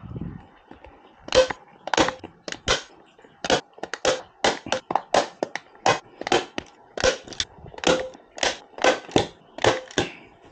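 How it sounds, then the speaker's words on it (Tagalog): Sharp staple-gun shots fire one after another at an uneven pace while a Vespa Prima seat cover is stapled down, each crack close and loud with short pauses between the bursts. "gun tacker"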